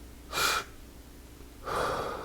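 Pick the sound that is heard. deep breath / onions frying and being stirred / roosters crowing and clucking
deep breath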